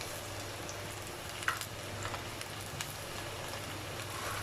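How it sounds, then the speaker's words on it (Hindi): Chicken pieces coated in a cornflour and flour mix deep frying in hot oil, giving a steady, soft sizzling hiss with a few faint pops and crackles, fairly close and without talk. "और ये मैंने अच्छे से इसमें कॉर्नफ्लोर और मैदा मिक्स कर लिया, और मैं कर रही हूँ इनको डीप फ्राई।"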